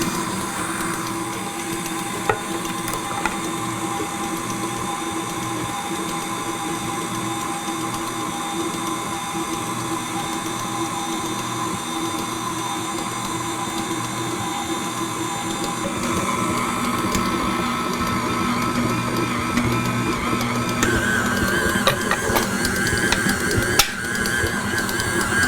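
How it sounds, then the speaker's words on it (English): Stand mixer running steadily on low with a scraper paddle working dough, giving a continuous whirring motor drone with slight rattling from the shaking head, close and fairly loud throughout, with no voices. "So this is our dough, and the mixer's shaking a little bit on the head of it."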